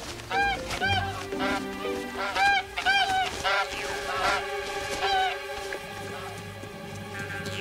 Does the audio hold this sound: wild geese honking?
yes